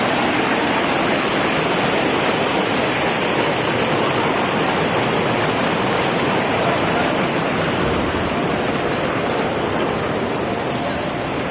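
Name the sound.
waterfall at Sipucot Falls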